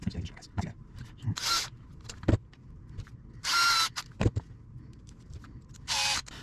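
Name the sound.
drill driving bolts into RC diff cover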